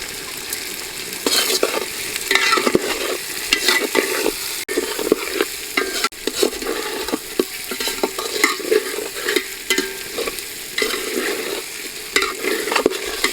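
Whole cumin seeds and fish frying in oil for a potato curry, a loud continuous sizzle with frequent crackles and scraping stirs throughout, close and without speech.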